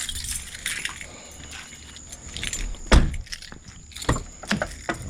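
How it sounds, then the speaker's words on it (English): A set of car keys jangling and clinking close by during work on a 2011 Dodge Charger, several short metallic rattles with one sharper clink in the middle, fairly quiet. "Get my keys."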